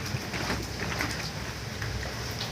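Rui fish head frying in hot oil in a pan with bay leaf and whole spices for kochu shak, giving a steady dense sizzle like rain that stays loud and even throughout, with no talking.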